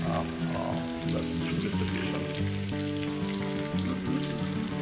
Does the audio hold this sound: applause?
no